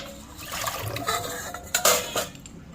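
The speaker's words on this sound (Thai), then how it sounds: "เดี๋ยวเทน้ำออกก่อน" Water being poured out of a container while cleaning chicken, splashing and gurgling in uneven bursts with light clinks of pots or dishes, close and fairly loud.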